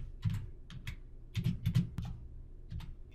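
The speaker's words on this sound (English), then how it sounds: "I'll type in the delimiter AB with its spaces before the dash" Quick keystrokes on a computer keyboard, a close, crisp run of clicks in small irregular clusters, moderately loud and alone.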